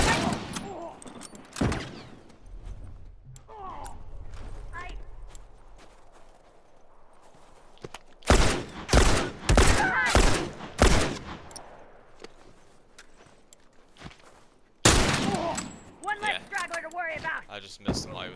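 Sharp rifle shots ring out in The Last of Us multiplayer, a fast cluster of four or five loud cracks near the middle followed by another burst, with quieter game ambience and talk-like sounds between them.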